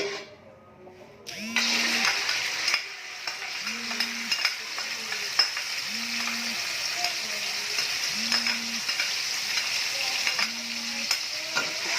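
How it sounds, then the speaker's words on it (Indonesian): Spice paste sizzling and frying steadily in a little oil for a Batak Toba bangun-bangun dish, with a spoon or spatula stirring and scraping the pan in regular strokes; close, continuous crackle, no talking. "Kita akan menumis bumbu yang tadi"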